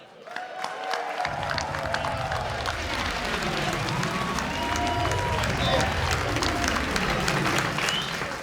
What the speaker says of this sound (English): can I give a big round of applause for the one and only New York City Breakers